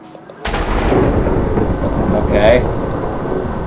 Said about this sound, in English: massive explosion, it's basically the size of TNT basically blowing up